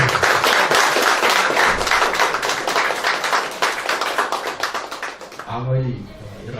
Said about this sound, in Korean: 감사의 박수를 좀 부탁드립니다.